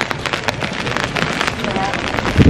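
Rain patters on hard surfaces outdoors in Skagway, Alaska, a dense close crackle of drops running steadily throughout.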